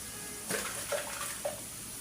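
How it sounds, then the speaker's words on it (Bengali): Water is poured into a pot of cooking lentils, a short, soft splashing trickle with a few gentle gurgles, fairly faint and close. "এখন আমি একটু পানি দিয়ে দিই"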